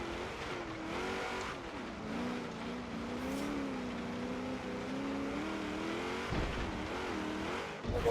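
A Ford De Luxe Coupe engine in Forza Horizon 3 on an uphill climb drones steadily and loudly, its pitch wavering up and down as the car accelerates and eases off, with a brief dip and surge near the end.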